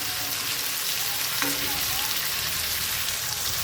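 Chicken curry masala, made with stone-ground spices, fries in a pan with a steady, even sizzle that holds at a constant level throughout, broken by one faint clink.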